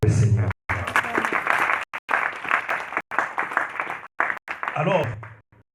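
A church congregation claps and applauds for the Lord in sustained loud, dense waves, broken by short gaps, with a preacher's voice heard at the start and near the end.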